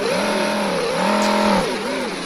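A car engine revs up and down as it accelerates, its tone rising and falling in swells across the clip, loud and close with no talking.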